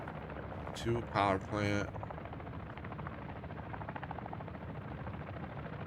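An enemy attack helicopter in Call of Duty DMZ approaches as a low, rhythmic rotor thrum beneath game battle noise, with a brief radio voice speaking near the start.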